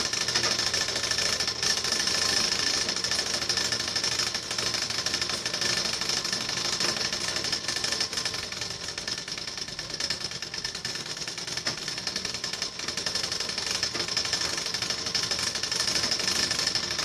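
A sewing machine stitches blouse lining in a continuous, loud, rapid mechanical whir and clatter that barely changes over the whole stretch, with no talking.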